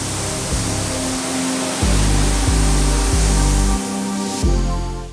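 A forest waterfall and river on São Miguel in the Azores produce a loud, steady broadband rush of falling water, with low tonal hum from wind or handling shifting underneath.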